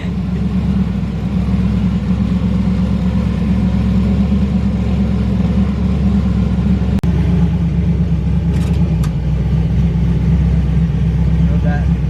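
A twin-turbo Camaro idles loudly and steadily on the brake as boost builds, its deep engine rumble filling the close, sustained sound, with one sharp click partway through.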